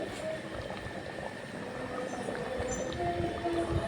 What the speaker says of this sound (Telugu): ఇప్పుడు చేపల పులుసు బాగా మరిగిపోయిందండి